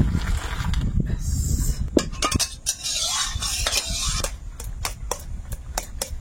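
Boiled elephant foot yam is poured out of a pot, producing a loud, sloshing wet rush with rattling metal clinks and scraping ticks as the pot is tipped and emptied.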